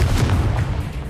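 A blasting spell cast in Hogwarts Legacy lands as a single loud, close, low booming burst that fills the short moment and fades slightly at the end.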